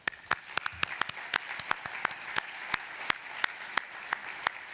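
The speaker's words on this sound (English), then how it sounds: "Let's give this entire group a round of applause." Clapping at a technology hall of fame awards event, fairly sparse and distinct claps in a loose irregular rhythm, a few sharp ones standing out over a thin background of lighter clapping.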